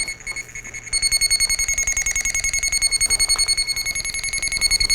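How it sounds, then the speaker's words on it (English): Armada Technologies Pro300 HD cable locator giving a continuous electronic signal tone, a loud, rapidly pulsing buzz that steps up in level after the first second and holds steady while tracing a buried valve wire. "When you're over the cable, you can hear that null signal."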